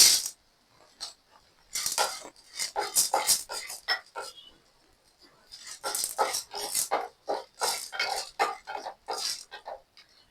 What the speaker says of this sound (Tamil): இனி கடலப்பருப்பு போட்டுடலாம்